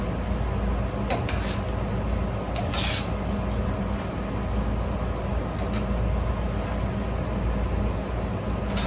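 Pasta with shrimp marinara gets tossed in a pan, a steady low rumble and sizzle with a few sharp metallic clinks and scrapes of utensils against the pan, close and continuous, no talking.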